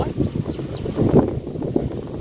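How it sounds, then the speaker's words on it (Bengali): Strong gusty wind buffets the microphone with low rumbling roars that rise and fall, close and loud. "আজকে দেখা কি পরিমাণ বাতাস"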